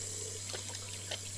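In the video game Captain Spirit, water runs from a faucet in a steady, faint stream over a low constant hum.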